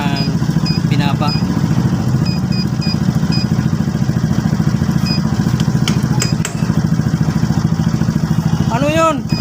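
A Suzuki Burgman scooter with an RPM issue idles with a steady, rapid chugging throb, loud and close, while people talk over it and brief clatters cut in.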